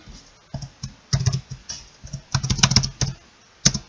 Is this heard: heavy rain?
no